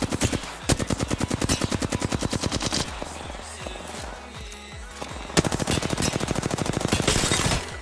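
Rapid automatic gunfire from a video game firefight, loud sustained bursts of machine-gun fire in long rhythmic strings, easing to a brief lull before resuming at full intensity.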